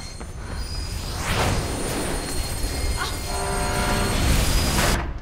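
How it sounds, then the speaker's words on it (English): A train in the video game Mirror's Edge rumbles up from behind, a loud continuous roll of wheels on rails with metallic squealing tones building toward the end. "There's a train coming behind you. Get the hell out of there."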